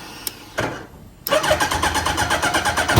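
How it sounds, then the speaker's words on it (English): A turbocharged Suzuki Hayabusa motorcycle engine cranks briefly, then fires up and settles into a steady, pulsing idle, loud and close with no talk. "And with this one you have to start the bike."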